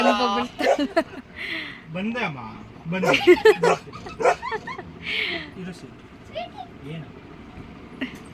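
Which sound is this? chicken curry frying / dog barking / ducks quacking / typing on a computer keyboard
dog barking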